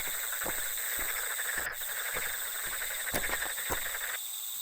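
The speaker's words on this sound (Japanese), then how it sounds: "田んぼから聞こえるカエルの声、それに秋の気配を感じさせる虫の鳴き声だけでした。" Night insects and frogs calling from rice paddies in the rural countryside on an early autumn night: a steady high chirring drone, with soft intermittent croak-like pulses underneath, continuous with no voices.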